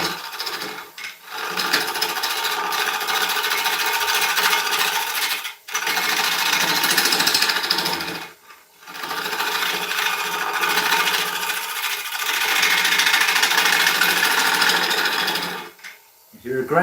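A spinning wood lathe with a turning tool cutting dense hardwood gives a steady, loud rasping scrape that runs in long stretches, broken by a few short pauses as the tool lifts away.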